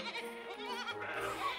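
A group of young children imitates sheep, bleating and baaing together in an indoor church setting, a close, overlapping chorus of voices with no other sound.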